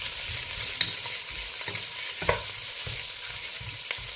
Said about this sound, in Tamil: வெங்காயம் பச்சை மிளகாய் எல்லாம் போட்டு நல்லா வதங்க விடப்போம்